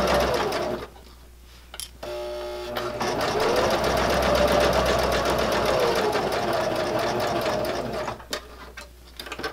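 A sewing machine stitching a fabric bag handle cover, running in short bursts with pauses, then a long steady whirring stretch of rapid stitching before slowing and stopping, close and clear.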